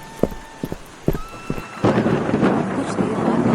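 Thunder booms and crackles in a rainstorm over a small street market. Several sharp claps come in the first two seconds, then steady heavy rain hisses and keeps going.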